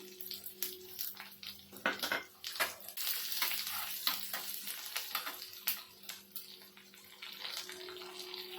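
Curry leaves and urad dal splutter in hot oil while tempering for bun dosa, a crackling sizzle with sharp pops and stirring scrapes, close and moderately loud.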